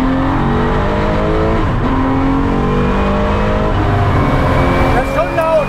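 A Porsche 911 992 GT3 accelerates hard on a race track, its engine climbing through rising, falling and rising revs, heard loudly from inside the car, with voices talking over the engine noise.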